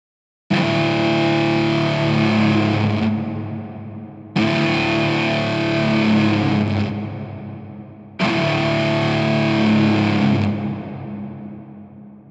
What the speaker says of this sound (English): This is now that same cello pitch bends, but with the guitar distortion.